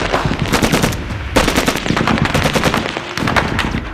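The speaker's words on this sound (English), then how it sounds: "as soon as they stood up, the gunfire increased." Dense, relentless machine-gun fire during a battlefield ambush in Helmand, rapid bursts overlapping into a continuous loud clatter with brief dips before the shooting swells again, close and harsh.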